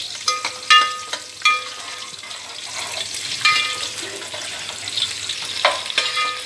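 Garlic and then onion go into hot oil in a pan, giving a soft, steady sizzle broken by several sharp clatters as they are dropped in and stirred, close by, with no one speaking.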